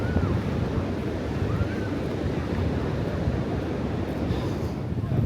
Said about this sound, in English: the wind is pretty strong around here